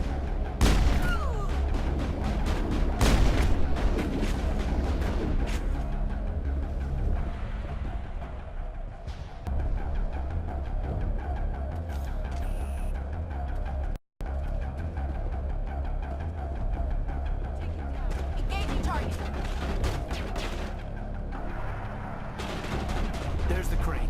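Gunfire and explosions from the Mass Effect video game, in the Feros level, a dense stream of shots and booms layered over a steady low hum, fairly loud and continuous for over twenty seconds, with a brief dropout near the middle.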